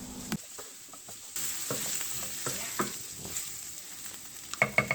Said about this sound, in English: And now we're going to add some garlic, about 2 bulbs chopped.